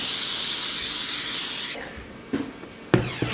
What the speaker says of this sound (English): Spray it down with some cooking spray.